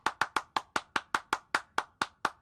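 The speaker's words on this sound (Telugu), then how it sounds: "చప్పట్లు కొట్టండి," Rhythmic hand clapping, about a dozen sharp, evenly spaced claps at a steady brisk pace, close and clear with no talk over them, during a political comedy scene.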